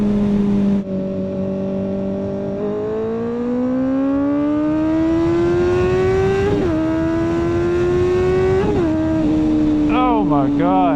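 A Kawasaki ZX-4RR with a slip-on exhaust winds up close and loud, rising through several long climbs with brief blips. It ends in quick, warbling revs, with no voices heard.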